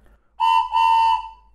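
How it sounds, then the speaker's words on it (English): Two 3D-printed whistles blown together give a steam train sound: one loud, close, sustained chord with a brief dip partway, ending in silence. "it sounds like a steam engine train."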